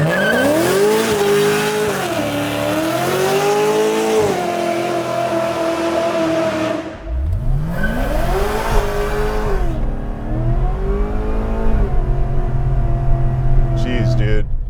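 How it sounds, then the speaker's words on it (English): A 650 hp supercharged LSA Chevy SS sedan's engine revs hard in a burnout and holds at high pitch, drops briefly, then roars up again with tires squealing and screeching close by. "let's go do our burnout shot and get out of here then"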